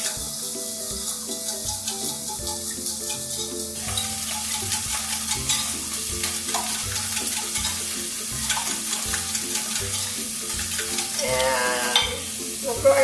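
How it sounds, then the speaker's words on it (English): A whisk or utensil stirs eggs and milk in a bowl for veggie quiche bites while vegetables sizzle in a pan nearby, with a steady scraping, rhythmic mixing sound over a low continuous hum and frying hiss. "So now, while that's cooking a little bit, I'm mixing up the eggs and the milk."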